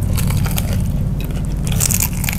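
Someone bites into crispy balado-spiced fried chicken, giving loud close crunches and crackles in quick succession, with no talk over the chewing.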